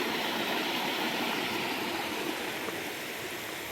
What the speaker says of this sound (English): So here we have a little stream, little creek, whatever you want to call it.